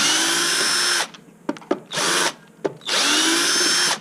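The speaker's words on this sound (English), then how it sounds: "Helps if you've got a magnetised tip to get each screw out." Power drill or electric screwdriver backing screws out during a battery connection replacement, three loud bursts of whirring with short clicks and pauses between them.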